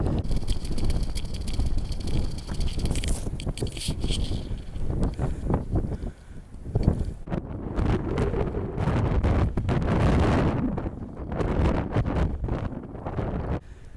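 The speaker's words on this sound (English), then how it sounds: "Going through the wind farm," Strong wind at a wind farm buffets the microphone in heavy, continuous roaring gusts that rise and dip throughout, with no voices.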